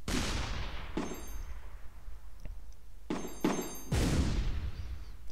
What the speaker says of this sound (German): Und dann wird mit dieser Fünfballwaffe abgefeuert.